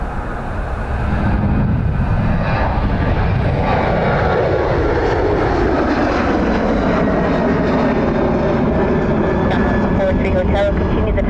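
Aircraft engine roar from planes taxiing at Dublin Airport's north runway, a steady broad drone with a slowly shifting tone, loud and continuous, with radio talk heard over it.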